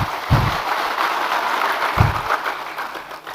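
A large political audience claps during a speech, producing a dense, sustained roar of applause with a couple of low thumps near the start and middle, steady and fairly loud throughout.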